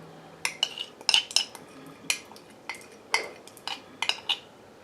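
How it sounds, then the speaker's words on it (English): Metal utensil clinking and scraping against a bowl while melted chocolate is stirred into an egg mixture for molten lava cake, a series of sharp close taps in an irregular rhythm with no talk. "I'm just going to stir that into this egg mixture"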